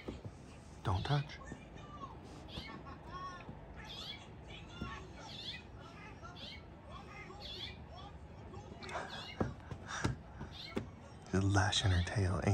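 A cat chattering and making soft meow-like calls at birds outdoors, brief repeated vocal bursts with faint birdsong, low whispering voices and occasional handling noises around them.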